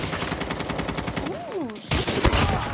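Rapid automatic gunfire in the mobile shooter Call of Duty Mobile: dense, loud bursts of repeated shots, a brief sweeping tonal effect in the middle, then a sharper, louder volley near the end.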